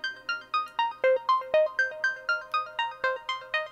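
Plucky synthesizer notes from Arturia Pigments in a generative patch fire in a steady, quick sequence of short bright tones at changing pitches, each with a sharp attack and fast decay, clean and upfront with no voices.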